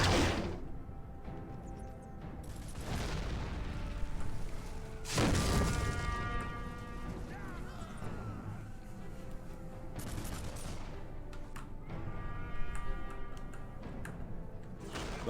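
Cannon fire in a Warhammer Empire battle, heavy booming blasts recurring every few seconds, each followed by a ringing decay, with rattling gunfire and battle ambience between them.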